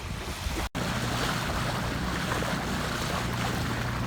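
A Catalina 22 sailboat motors across open water off SW Florida, with a steady broadband wash of waves and engine rumble plus wind buffeting the microphone, briefly cut out once near the start.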